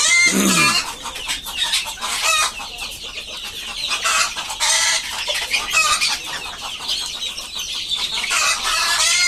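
Many sick chickens cluck and squawk busily close by, a continuous overlapping chorus of clucks with one louder squawk at the start.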